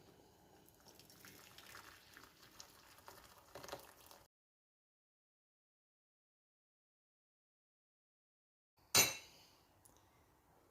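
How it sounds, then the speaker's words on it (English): Freshly boiled water poured into a bowl for melting chocolate, a soft splashing trickle for about four seconds, then silence, then a sharp clink of a plate set on top. "So freshly boiled water goes into the bowl."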